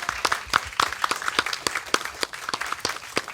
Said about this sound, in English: I'd like to give these gentlemen a big round of applause, please, for their session and what they've done.